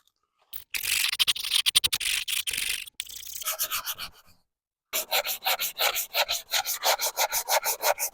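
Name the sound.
sanding a Ford Econoline headlight lens with sandpaper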